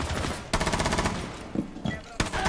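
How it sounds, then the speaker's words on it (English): Rainbow Six Siege gunfire, dense rapid automatic bursts close by, broken by a brief pause and a few sharper single shots, with a player talking over part of it. "He's pre-firing me on angles that don't even exist"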